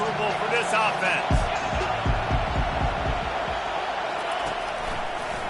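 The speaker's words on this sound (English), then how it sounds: "This crowd trying to make life miserable for this offense" Stadium crowd roar in College Football 25 during a Wisconsin game, a steady loud wash of noise with thumping low beats throughout and speech-like voices within the din.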